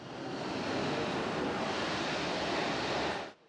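An airliner landing at Hong Kong's Kai Tak Airport in a crosswind gives off a broad, steady engine roar. The roar is fairly near and constant, then cuts off abruptly at the end.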